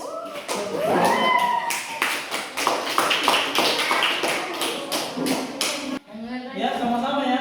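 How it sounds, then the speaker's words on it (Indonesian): A class gives a round of applause for a student during a lesson on positive school culture, many hands clapping in a busy, uneven burst with voices talking at the start and end. "tepuk tangan dulu untuk Hafiz."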